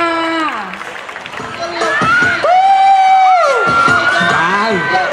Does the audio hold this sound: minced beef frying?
no